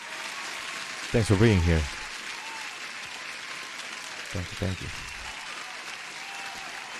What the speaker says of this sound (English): You deserve an applause as well.